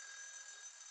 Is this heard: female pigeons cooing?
no